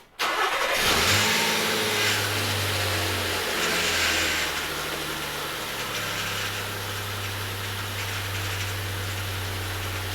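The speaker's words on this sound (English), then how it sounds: "I'm gonna go ahead and start it again and start turning the wheel with the engine running" A Nissan VQ40 engine cranks and catches with a brief rev, then settles into a steady, even idle that runs on at close range.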